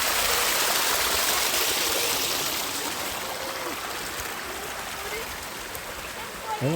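A waterfall by a cave temple pours with a continuous, close rushing hiss of water that eases slightly over time, while a faint voice talks briefly near the end.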